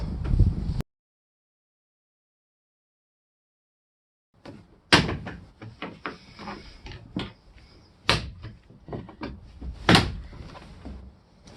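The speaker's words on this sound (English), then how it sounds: "go in there and just give it a quick jolt like that, and it'll just pop off" Interior trim panel on a Mercedes Sprinter van popping off after a jolt from a long screwdriver; a brief knock, a silent gap, then a run of sharp plastic cracks, clicks and thumps close by.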